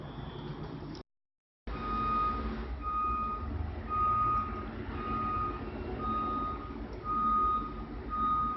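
A truck's reversing alarm beeps steadily in a regular on-off rhythm over low engine rumble, moderately loud, with a brief dropout near the start.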